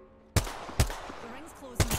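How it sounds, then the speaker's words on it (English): Gunfire in the battle royale game Apex Legends: three sharp, loud shots at uneven intervals, each cracking out and then fading quickly, with faint game ambience between them. "Taking the shot. Making contact with enemy. I'm getting shot."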